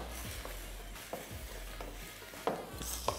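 A hot pan with liquor cooking off while making an Italian dish, giving a soft steady sizzle with a few light stirring scrapes and clicks, no speech.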